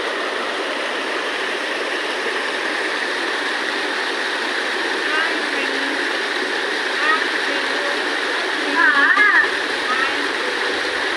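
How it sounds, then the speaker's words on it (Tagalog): A waterfall at Odiongan, Romblon pours as a steady, full hiss of rushing water that stays even throughout, with brief faint voices rising near the end. "Ganda ng falls dito."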